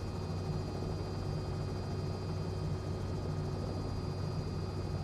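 A helicopter's steady rotor and engine drone holds constant and loud throughout, with a thin whine riding over the low throb.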